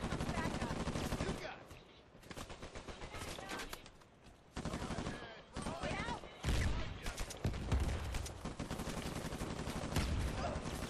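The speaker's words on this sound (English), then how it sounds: "Is there like two buddies like shooting at each other?" Rapid gunfire from an online multiplayer match of Uncharted 4: dense automatic bursts and single shots roll on almost continuously, with brief lulls, while players talk over the shooting.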